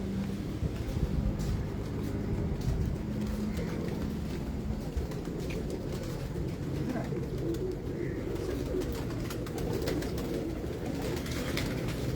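Pigeons coo on a rooftop loft amid steady outdoor background noise, the birds' calls blending into a continuous murmur with no clear speech.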